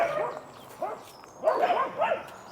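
Dogs bark nearby in short bursts, a couple of single barks followed by a quicker cluster of overlapping yips and barks, moderately loud with no talk over them.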